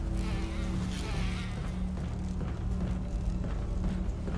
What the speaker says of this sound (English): Not just normal bees, super bees.